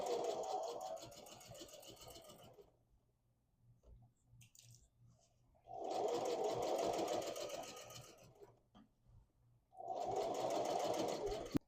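A sewing machine stitches fabric for a pair of pants in three steady, close runs of rapid needle chatter. Each run is separated by a quiet pause.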